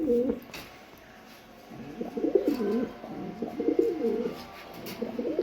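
Pigeons, including Bagha-style and Jabra breeds, coo softly in low repeated throaty phrases, faint and close, with brief pauses between the calls.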